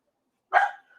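A single short, sharp bark from a dog indoors, close and loud after a moment of silence.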